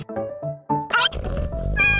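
A cat meows several times in quick succession, with close, clear, rising and falling cries, followed by some rustling.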